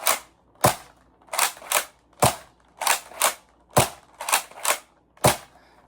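A Nerf N-series blaster fires shot after shot, each one a sharp, loud snap spaced roughly every half second to second, sometimes in quick pairs, with no talk between them.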